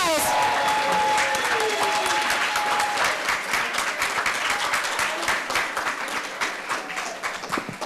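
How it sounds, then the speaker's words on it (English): Audience applause for 2017 graduates at a graduation ceremony, dense sustained clapping filling the room for the whole stretch, with some voices mixed in and a brief tone early on. "Please give a round of applause to our graduates of 2017."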